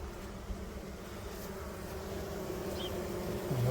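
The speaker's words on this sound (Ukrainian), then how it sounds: "ну покажіть дядько Іван, скільки тут бджоли в краю сидить." A steady, dense drone of many honeybees buzzing close by in a hive, continuous and slightly swelling toward the end.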